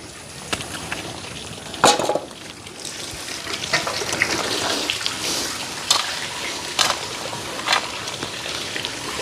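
Water is poured from a bucket onto a newly planted jackfruit sapling in a garden, a steady close splashing pour with several louder gushes and no talking.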